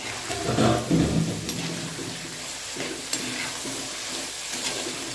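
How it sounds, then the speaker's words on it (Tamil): Tomatoes fry in a clay pot after onions have browned, a steady close sizzle with a burst of stirring and scraping at the start, then an even hiss with occasional small pops. "இப்போ நம்ம தக்காளி போட்டுக்கலாம். தக்காளி நல்லா வதங்கட்டும்."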